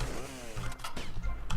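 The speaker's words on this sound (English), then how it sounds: "I chainsaw Lance." Chainsaw attack in the video game GTA: Vice City, a loud revving buzz that rises and dips through a short burst, close and alone without talk.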